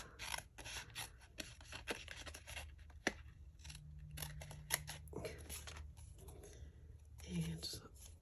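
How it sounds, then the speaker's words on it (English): Small snips cut leftover card stock with repeated crisp snipping and rasping strokes, close and quiet, under a soft talking voice. "I tend to use my snips to do this bit as well"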